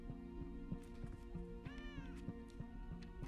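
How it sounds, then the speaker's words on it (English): A cat in the Venom movie gives a single brief meow partway through, heard over a steady droning score and faint background tones. "There's the cat."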